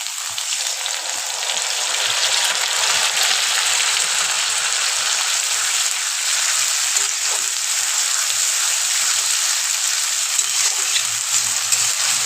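A spice mix fries with already fried potatoes in a pan for mocha ghanto, giving a steady, bright sizzle that starts just after the spices go in and keeps crackling evenly, close and alone.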